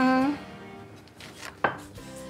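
Shallots, garlic, turmeric and coriander are pounded and ground in a mortar, a few knocking and scraping strikes at close range, with no talk.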